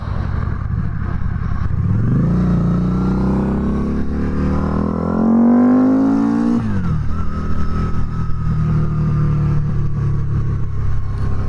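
Harley-Davidson V-Rod Night Rod Special motorcycle being ridden, its engine loud and close as it revs up through a rising pitch, drops sharply, then settles into a steady running drone.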